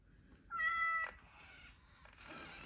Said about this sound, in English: She definitely purrs or does the mechanical sound if I pet her a bunch.